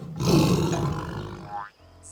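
A cartoon character's voice imitates a tiger roar, one loud, sustained growling roar lasting over a second before breaking off into quiet.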